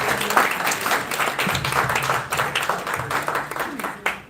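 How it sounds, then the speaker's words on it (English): Broadband audience applause for panelists at a book launch fills the clip steadily, with a few voices mixed in beneath the clapping. "A round of applause for our panelists."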